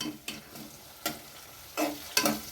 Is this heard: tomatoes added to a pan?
yes